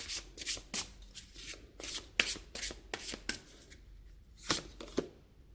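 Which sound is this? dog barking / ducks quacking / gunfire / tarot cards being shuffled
tarot cards being shuffled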